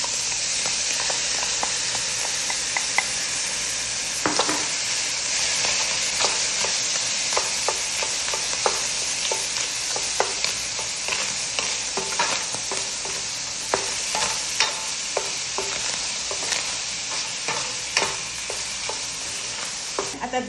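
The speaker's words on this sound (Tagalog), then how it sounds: "At add ko na rin itong hiniwa kong onion." Sliced onion fries in oil in a pan, a loud continuous hissing sizzle with frequent stirring scrapes and clicks throughout and no voices.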